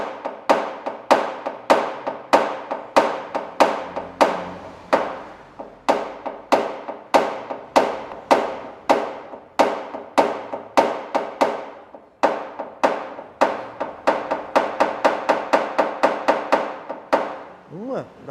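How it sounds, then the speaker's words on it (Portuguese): A hammer taps out dents in a car body during paintless dent repair, with sharp metallic knocks repeating steadily and then faster, close and loud with no talk over them. "Vou utilizar o martelo, uma ferramenta boa para esses cantos."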